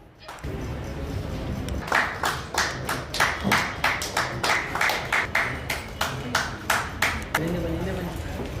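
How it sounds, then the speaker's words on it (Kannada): Audience applause at a certificate distribution ceremony, a dense run of many hands clapping with distinct sharp claps rising and falling for several seconds, fairly close, with faint talk beneath. "ಸೊ ಇಷ್ಟೇನಾ ಚಪ್ಪಾಳೆ?"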